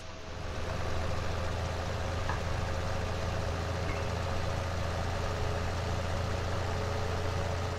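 A tractor engine idling in a farming video game on the Sosnovka map, a steady low, throbbing hum with a continuous mechanical drone and no revving.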